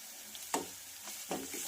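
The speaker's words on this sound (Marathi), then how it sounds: "त्यानंतर घालायची आहेत आपल्याला कढीपत्त्याची पानं" Curry leaves hitting hot oil with ginger-garlic paste in a pan for sprouted moth bean curry, giving two short bursts of crackling sizzle over a steady low frying hiss.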